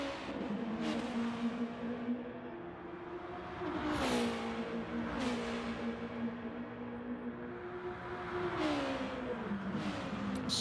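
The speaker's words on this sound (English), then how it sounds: "they do sound good, these Raybrigg Hondas" Honda race cars in Raybrig livery roar through a racing video game, engines revving in sustained layered tones with gear-change dips and rising pitch sweeps, several cars overlapping steadily for the whole stretch with no talk.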